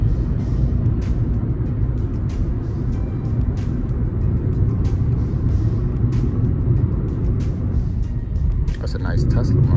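A car drives along the road with a steady low engine and tyre rumble, close and continuous, with faint clicks over the top and a brief sharper rattle near the end.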